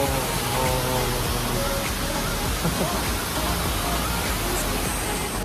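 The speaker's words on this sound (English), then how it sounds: "waterfall." Shifen Waterfall in Taiwan roars as a loud, steady, broadband wash of falling water that fills the whole scene, with faint voices buried underneath.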